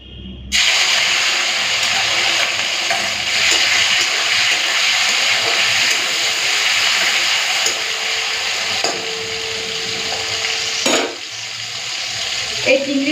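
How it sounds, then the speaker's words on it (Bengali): Prawns hit hot mustard oil in a pan, a loud sustained sizzle and crackle that sets in abruptly and runs on with a few sharper pops and clatters of stirring. "তেলটা ভালো করে তেলটা গরম করে নিয়েছি প্রথমে চিংড়ি মাছটা ভেজে নেবো"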